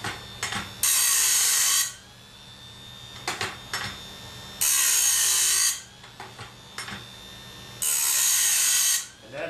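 A precision saw sharpener grinds saw teeth in three loud, sustained passes about three seconds apart. Quieter clicks and ratcheting from the mechanism fill the gaps between them.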